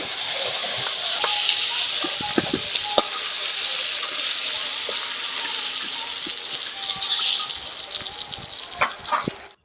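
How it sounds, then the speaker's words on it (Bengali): Shrimp fry lightly in hot oil in a pan, a steady loud sizzle with scattered crackles and pops throughout, no talking. "আমি হালকা করে চিংড়ি মাছগুলোকে ভেজে নিচ্ছি।"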